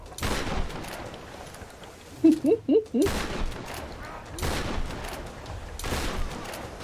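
Gunfire in the Boat Raider game, several heavy blasts spaced a second or two apart with a short rapid burst of sharp shots in between, loud and booming with no voices.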